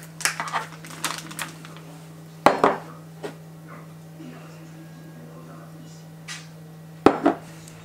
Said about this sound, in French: On va diviser la préparation donc dans les 4 bols.